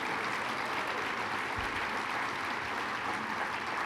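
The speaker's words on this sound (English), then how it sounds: "So let's give another round of applause to Howard Zemsky." Round of applause from an awards ceremony audience, a steady dense wash of clapping that holds at even loudness throughout.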